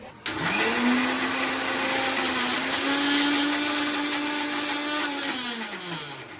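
A kitchen blender whirs steadily at close range while grinding food into a smooth paste, its motor spinning up sharply, holding a constant hum for several seconds, then winding down.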